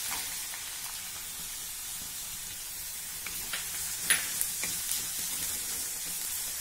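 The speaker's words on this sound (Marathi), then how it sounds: "हा लसूण आपल्याला खूप तांबूस परतायचा नाही, अगदी थोडासा हलका होईल एवढाच" Crushed garlic fries lightly in a pan, making a quiet, steady sizzle and hiss with a few soft stirring clicks near the end.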